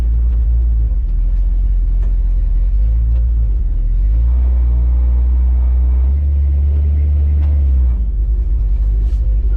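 A 1970 Dodge D100 pickup's engine rumbles steadily from inside the cab, deep and loud, rising slightly as it accelerates and then easing back.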